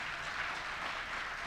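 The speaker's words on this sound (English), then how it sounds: "Let's give them a round of applause" Applause from the audience at a health stakeholders' meeting and strategy launch, honouring the scholarship girls; a short, steady wash of clapping, fairly loud and even throughout, with no voices over it.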